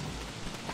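Rain falling in the video game Don't Starve Together, a steady soft hiss of raindrops on surfaces, continuous and even for a brief moment with no voices.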